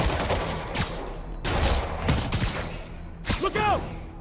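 Bursts of rapid gunfire in Spider-Man PC game, three short volleys separated by brief gaps, fairly close and punchy, with shouted voices mixed in.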